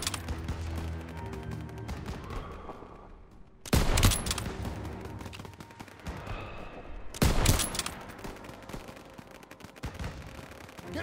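Gunfire rattles through a World War II battle in Call of Duty: WWII, a continuous distant crackle of rifle and machine-gun fire broken by two sharp, louder bursts of nearby shots.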